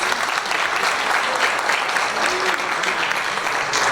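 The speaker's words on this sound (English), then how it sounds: "give them a round of applause" An audience at an employer recognition event applauds steadily for employers and employees, a dense, even wash of clapping throughout.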